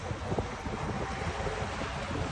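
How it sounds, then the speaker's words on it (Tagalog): Strong wind gusts by the sea, a steady broadband roar with microphone buffeting, alone without talk. "Kusog biya kayong hangin."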